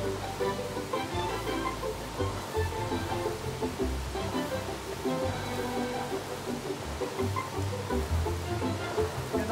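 Heavy rain pouring steadily, a dense continuous hiss with a low rumbling wash underneath, heard alone without any voices.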